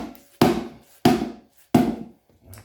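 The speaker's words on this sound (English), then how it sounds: "Bigger hammer." Three heavy hammer strikes, evenly spaced and close, pounding a small stiff heavy-duty tire onto a 4 inch rim, each blow a sharp thud followed by a short ring.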